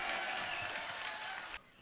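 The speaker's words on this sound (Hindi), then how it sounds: "अरे तालियां बजा जोर से।" An audience at a Jain religious gathering claps in a dense, even stretch of applause that cuts off abruptly near the end, leaving quieter room sound behind.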